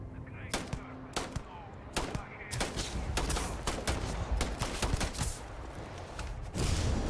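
Scattered gunshots crack out in Starfield: Shattered Space, sharp individual reports spaced irregularly over a low background rumble, fairly quiet overall with a louder burst near the end.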